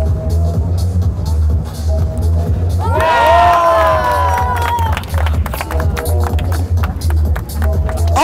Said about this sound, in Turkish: Alkışlar Nefçi'ye gelsin.